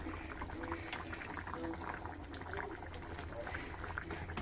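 Bora dumplings boiling in a pot on a home kitchen stove, a steady, low bubbling churn that runs continuously at moderate level, with faint background voice and occasional small clinks.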